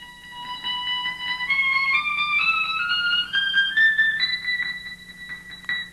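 Electric guitar picked behind the pickup so the notes slide in microtonal steps, producing thin, gliding tones that rise gradually over a low steady hum.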